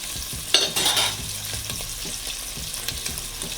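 Jamaican fried dumplings frying in a pan, a steady close sizzle with a brief louder burst of spatter near the start, then soft continuous crackle with faint knocks of stirring.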